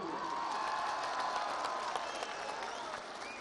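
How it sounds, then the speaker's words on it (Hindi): A crowd at an Imran Khan PTI political rally in Abbottabad breaks into loud, sustained applause with some cheering, dense and continuous clapping that eases slightly toward the end. "एबटाबाद के लोगों, हाथ खड़ा करके तालियां बजाओ उनके जज्बे के लिए।"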